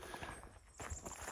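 Horses at a campsite beside a camping RV in a state forest, their hooves clip-clopping faintly at a distance in irregular steps.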